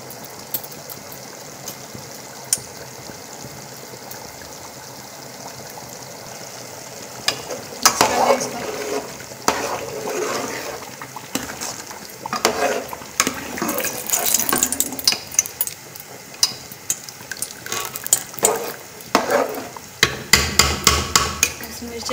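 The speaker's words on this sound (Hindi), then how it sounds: "चलो, मसाला रेडी हो चुका है, अभी इसमें दही शामिल कर देते हैं।" Yogurt is stirred into sizzling masala for beef achar gosht, with clattering spoon scrapes and bursts of frying that grow louder and busier midway, and no talk.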